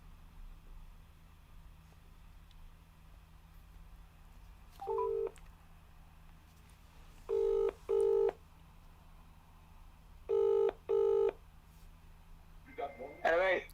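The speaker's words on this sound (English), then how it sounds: "Let's phone Suj." Telephone dialing tones beep in a few separate clusters of two or three, clear and steady over a faint background hum, with a brief voice at the end; no ringing is evident.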